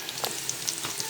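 Curry leaves frying in hot oil for a Kerala-style snake gourd, tomato and dal curry, giving a soft steady sizzle with small crackling pops, close and fairly quiet, with no voices.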